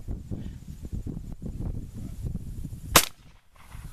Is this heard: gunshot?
yes